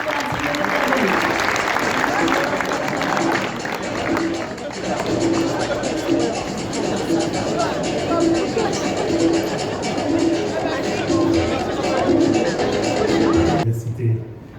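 Audience applause at a closing ceremony in the Marrakech-Safi region, sustained loud clapping from a large crowd with some cheering, continuing for over ten seconds before cutting off abruptly.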